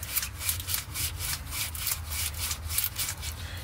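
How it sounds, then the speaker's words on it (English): A metal strut bushing from a 1993 Suzuki Carry is scrubbed with Scotch-Brite, giving a close, rhythmic back-and-forth rubbing scratch of about a dozen quick strokes with no talk. "you want to take some Scotch-Brite and just clean off"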